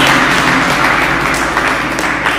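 An audience applauds at an event following a talk on herbal medicines, producing a loud, sustained, dense clatter of clapping with no pauses.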